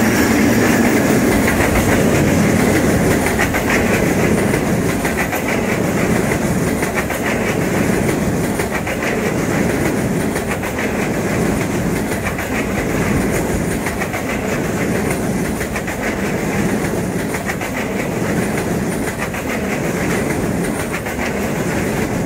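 A train hauled by a 1954 EMD G8 diesel locomotive rolls steadily along, its continuous loud rumble laced with rhythmic clickety-clack from the wheels over rail joints.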